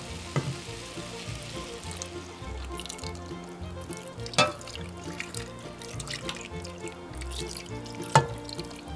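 Water poured into a pot of peeled potatoes for potato peel soup, a steady trickling, splashing pour running throughout, fairly close, with a few sharper knocks and clinks against the pot.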